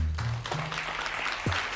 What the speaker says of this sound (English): Y'all clapping for her, bro.